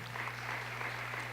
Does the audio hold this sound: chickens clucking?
no